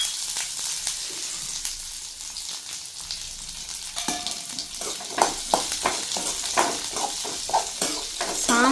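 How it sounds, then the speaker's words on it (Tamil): Shallots, garlic and curry leaves hit hot oil for a tempering, starting quiet then bursting into a steady crackling sizzle with sharp pops and stirring clicks from about halfway through. "இப்போ நம்ம எண்ணெய் ஊற்றி தாளிச்சிக்கலாம்"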